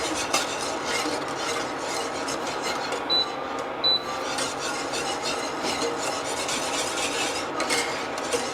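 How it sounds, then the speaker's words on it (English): A whisk stirs a thickening mixture in a pot, making a continuous soft scraping and swishing that repeats steadily at close range, with a couple of faint high beeps partway through. "You will tell that it's starting to get thicker as you stir, because the stirring and the whisk becomes a little heavier."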